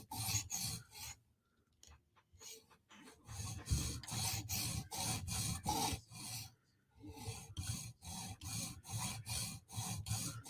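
Vero Synapse and Berg knife blades are sharpened in quick, rhythmic rasping strokes, repeated bursts of scraping separated by short pauses, close and fairly quiet.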